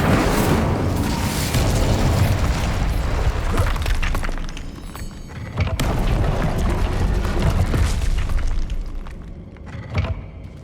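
A Confringo blasting spell in Hogwarts Legacy sets off loud, dense explosive booms and crackling debris that roar almost without pause, with a brief dip midway and a final burst near the end.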